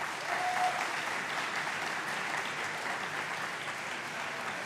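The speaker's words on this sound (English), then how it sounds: "Give yourself a round of applause." Steady applause from the audience for the 2024 graduates at a high school awards ceremony, a continuous dense clapping that holds at an even level with no voices over it.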